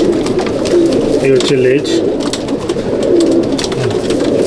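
Madrasi pigeons in a Howrah loft give repeated throaty, rolling coos close by, heard under someone talking.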